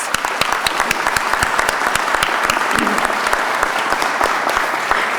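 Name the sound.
audience applause at a police academy graduation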